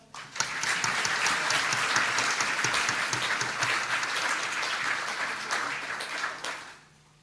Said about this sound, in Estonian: Suur tänu, palun aplaus.